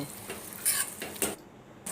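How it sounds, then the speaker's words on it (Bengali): Thick chilli paneer gravy with soy sauce and fried paneer bubbles in a pan while being stirred, giving a low hiss broken by several short bursts of scraping, a brief lull, and more stirring at the end. "গ্রেভি ফুটে উঠেছে আর বেশ ঘন হয়ে গেছে"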